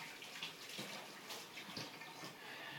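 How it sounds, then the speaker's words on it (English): Water runs steadily from a kitchen tap as hands are rinsed beneath it, a soft continuous splashing hiss with small shifts in the flow and no talking. "Let me rinse my hands off."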